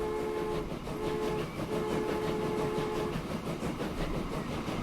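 An iron-ore train in the Transport Fever 2 simulation game rumbles along with rolling wheel noise and a sustained horn-like tone that sounds twice, alone without speech.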